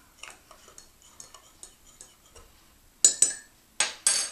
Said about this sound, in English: I'm going to give the honey a stir